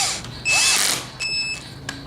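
Power drill cutting a countersink in walnut and cherry scrap wood: two short high-pitched whining bursts, the first louder and longer, the second briefer, close and alone.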